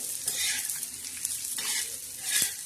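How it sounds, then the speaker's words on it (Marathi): Black masala of coriander, bajra and dal is roasted in a pan, with steady close scraping and stirring over a soft crackling sizzle throughout. "आता हा असा भाजायचा खरपूस आणि खमंग असा मस्त भाजायचा"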